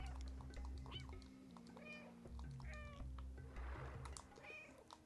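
Cat meows repeatedly in the game Stray, several short plaintive calls heard over a low steady hum, with a faint voice in the background.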